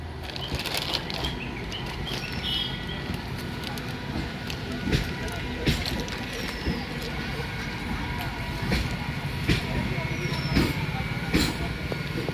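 A down local train heads toward Hooghly railway station, giving a continuous rumbling clatter with regular rhythmic thumps and occasional faint squeals, steady and fairly loud throughout.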